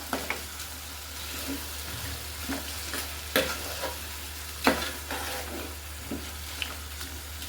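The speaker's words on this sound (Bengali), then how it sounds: "আরও কিছুক্ষণ আমি কিন্তু নেড়েচেড়ে আচারটা করে নিব" Hog plum (amra) pickle with vinegar is stirred in a hot pan, giving a low sizzle under repeated close scraping and clattering strokes at an irregular rhythm.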